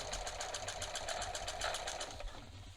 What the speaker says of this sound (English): I'm going to go slow because I am doing a zigzag stitch